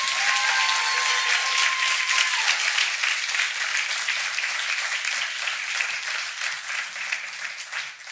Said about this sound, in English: So let's do one more round of applause for them,